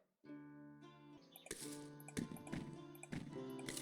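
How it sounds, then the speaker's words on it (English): Plants are watered in the potion-brewing game Potion Craft: gentle splashing, pouring water arrives in a few bursts over a soft, sustained musical background. "And water it all."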